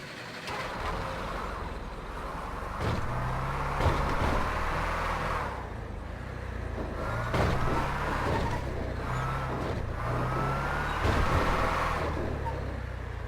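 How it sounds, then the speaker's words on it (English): A semi-truck in GTA 5 drives with vehicles attached, its engine giving a steady, continuous low drone with a few brief bumps and shifts throughout. "we can now drive the semi-truck around with our vehicles attached."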